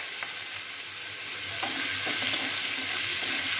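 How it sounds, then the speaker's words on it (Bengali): Onion frying in a wok with whole cumin seeds and green chilli, a steady close hiss of oil with a few soft stirring knocks, no voices. "এবার একটু ভালো করে এটা ফ্রাই করে নেব।"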